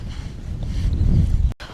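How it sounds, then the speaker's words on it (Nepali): Strong cold wind on a hill walk at the Roaches in the Peak District rumbles and buffets the microphone throughout, a dense low roar that cuts off abruptly near the end. "अहिले चाहिँ यहाँ एकदम चिसो चिसो हावा चलिरहेको छ"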